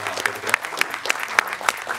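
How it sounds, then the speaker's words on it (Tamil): Audience applause at a Tamil film event, steady dense clapping from a crowd, loud and close, with a voice faintly under it. "அதுக்காக எல்லோரும் நான் கைத்தட்டேன்."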